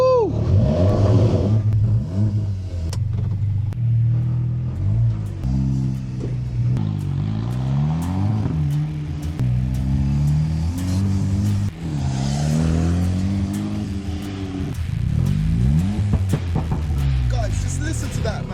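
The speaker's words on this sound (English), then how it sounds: "Listen to that, man, like from a Caddy." Modified VW Caddy R TSI van revving hard while driving, repeated loud engine pulls rising and falling in pitch through gear changes, close and dominant, with someone talking over it.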